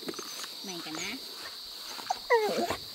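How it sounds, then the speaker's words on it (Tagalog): A dog meets people arriving after a river-crossing resupply trip with short whines and yelps, the loudest near the end, while people talk nearby. "Na, sumalubong na ating aso-aso."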